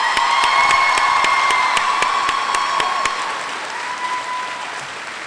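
An audience at the OTC Middle College 2019 graduation ceremony gives a loud round of applause, with dense clapping, a few cheers and a sustained tone underneath, tapering off toward the end.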